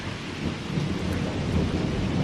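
A thunderstorm pours heavy rain while it is on holiday, with a dense, loud hiss of rainfall and deep rumbling thunder rolling underneath throughout.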